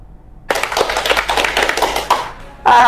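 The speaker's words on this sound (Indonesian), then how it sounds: "Tepuk tangan." A burst of audience clapping starts abruptly, holds for about two seconds with individual claps distinct, fades out, then a fresh burst begins at the end.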